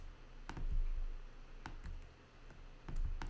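Computer keyboard typing during graphic design work, a few sparse clicks and short key taps at close range, quiet with no speech.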